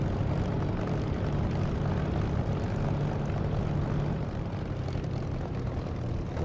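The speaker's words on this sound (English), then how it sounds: "It's in a Spitfire, you don't want to be distracted during takeoff." A Spitfire's piston engine roars during takeoff in a flight simulator game, a loud, steady, dense drone holding almost unchanged throughout, close and alone.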